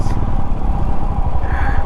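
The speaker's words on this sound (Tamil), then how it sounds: "பைக்கே கொஞ்சம் ஸ்ட்ரகிள் பண்ணி தான் ஏறுது." A Royal Enfield Himalayan single-cylinder engine labours up a steep hill, a loud close, uneven low thumping drone that holds steady throughout.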